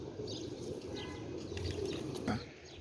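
Pigeons coo softly in a loft, low throaty calls blending under a faint wash of background noise with a few brief chirps and a wing flutter.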